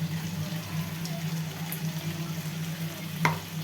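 Garlic paste, onion paste, cumin and spices fry in a pan with a soft, steady sizzle at moderate distance. One short clink sounds near the end, and no one talks.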